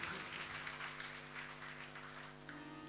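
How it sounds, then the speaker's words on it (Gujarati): An audience at a religious Bhagavat week gathering claps together, producing a continuous, faint, fairly distant wash of applause that fades slightly toward the end. "જોરદાર તાળીઓથી આપણે તમામને વધાવી લઈશું."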